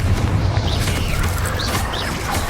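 Bombarda and Confringo spell blasts in the Hogwarts Legacy video game: a loud, rumbling low boom that sustains throughout, with faint chirping effects above it.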